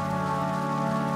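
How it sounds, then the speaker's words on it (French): Rain falls in the video game Death Stranding: a steady, continuous patter layered over sustained tonal ambience, with no talking. "Il fait que pleuvoir, pas méchant."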